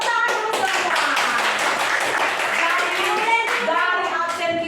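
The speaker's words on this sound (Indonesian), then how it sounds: "Tepuk tangan dulu semua" Children in a classroom clap their hands together, a busy burst of quick, uneven claps close by mixed with their excited voices throughout.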